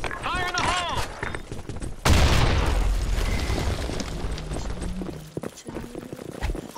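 Grenade blast in the online shooter Blackshot, a sudden loud boom two seconds in with a rumbling decay, surrounded by game effects and bursts of gunfire, with a voice speaking early on.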